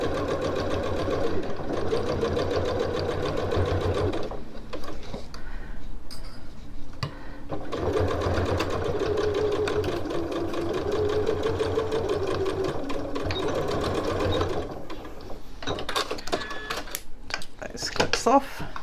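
Sewing machine stitching the boxed corners of a tote bag, bursts of fast close stitching broken by short stops and a few clicks, with a voice talking between runs.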